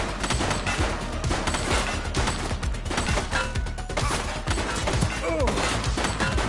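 Gunfire from a shooting suspect, a dense, continuous barrage of rapid shots rattling close and loud throughout, with shouted voices mixed into the chaos.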